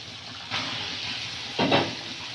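Chicken meat goes into a pan of spice masala frying in oil, giving two sharp bursts of hissing sizzle over a low background crackle, close and without talk.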